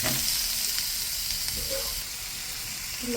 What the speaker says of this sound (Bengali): এরপর দিয়ে দেব কেটে রাখা টমেটো